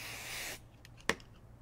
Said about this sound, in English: all I'm going to do is I'm going to spray the back of this